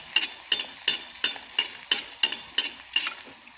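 Leaf pakora of night-blooming leaves frying in hot oil while a spoon stirs the pan, giving a steady row of sharp, evenly spaced scraping clinks over a low sizzle, close and loud with no talking.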